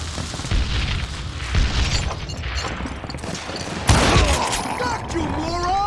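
Rapid bursts of gunfire and booming shots in Call of Juarez: Gunslinger on Nintendo Switch, volleys of loud, close blasts punctuated by a sharper, heavier report partway through.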